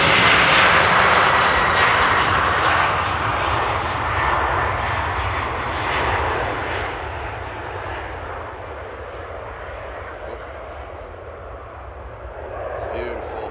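An airliner in 75th-anniversary livery takes off at Amsterdam Airport, its engine roar loud at first and slowly fading as it climbs away, with a voice talking over it.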